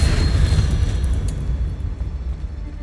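Depulso spell cast in Hogwarts Legacy, a loud, deep blast with a booming low rumble that fades over about three seconds.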